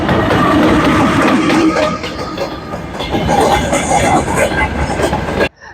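A train rumbles and clatters past near a road in the Carpathian mountains, loud and close, with rhythmic rolling and faint wheel noise that cuts off abruptly at the end.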